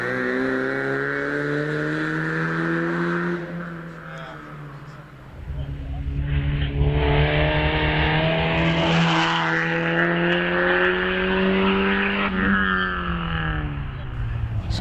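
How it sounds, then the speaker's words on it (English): Ford Escort rally car pulling away up a hillclimb at a rally event, engine revving loudly with rising and falling pitch through gear changes, heard fairly close, under a commentator's voice. "away goes Tony Porter in the Ford Escort"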